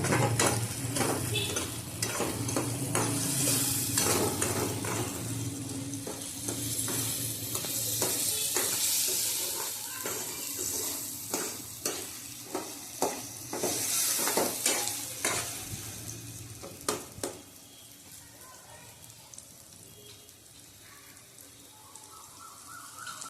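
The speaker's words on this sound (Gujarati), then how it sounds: "થોડી વાર કેરીના કટકાને ચડવા દેશું આપણે હલાવતા હલાવતા" Raw mango pieces frying in oil while being stirred, a continuous sizzle broken by frequent scraping clicks of a spoon against the pan, close and fairly loud, easing toward the end.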